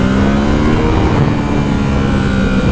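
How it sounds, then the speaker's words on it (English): Engine of a 2017 Ducati Supersport motorcycle while engine braking on a ride, a loud, steady, close droning growl with a low humming pitch that holds throughout, no voices. "that engine braking, that's not bad"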